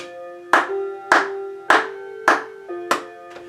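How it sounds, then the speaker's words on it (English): Hands clap a steady beat, five or six crisp, evenly spaced claps about every half second, ringing over a sustained musical tone. "You can clap the beat."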